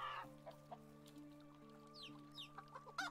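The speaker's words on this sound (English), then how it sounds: "Hi, chickens!" Chickens clucking in Medieval Dynasty, a medieval farming game: soft close clucks and short squawks from a few birds over a low steady background drone and music.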